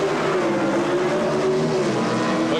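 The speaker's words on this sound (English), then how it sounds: "McGrew's 73 Camaro has a small block Chevrolet, 278 cubic inches. Highly stressed, high horsepower, high winding engines" A 1973 Camaro with a highly stressed, high-winding 278-cubic-inch small-block Chevrolet engine roars loudly and continuously at a drag race, its sustained engine note holding strong throughout.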